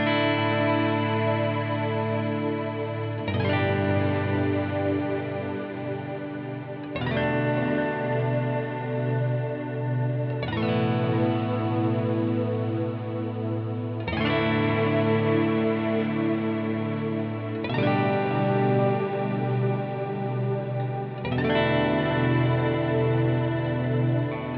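Sustained guitar chords through a Strymon Big Sky reverb pedal, washed in huge ambient reverb, changing every few seconds and blending into a continuous shimmering swell, with no talking.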